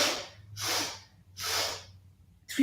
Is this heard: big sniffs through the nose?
yes